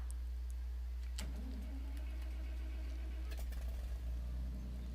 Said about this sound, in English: that sounds like a nice old tractor. It doesn't instantly start